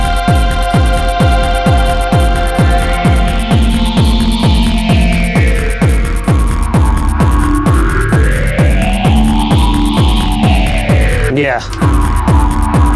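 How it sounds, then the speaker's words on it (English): A dark ambient patch plays on a Modal Argon8 wavetable synthesizer: a pulsing, throbbing low drone under slowly sweeping, rising and falling filtered tones, loud and continuous. A voice speaks briefly. "Some chilled out dark ambient here."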